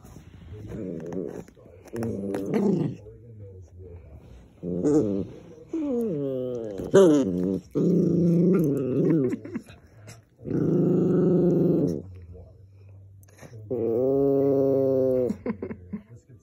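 Dog growling close by in a series of low, rumbling growls with short whimpering and grumbling tones, some long drawn-out, separated by pauses, with no talk.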